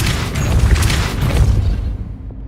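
A Depulso spell impact in the Hogwarts Legacy video game, a loud, close, rumbling boom that swells and then tails off over about two seconds.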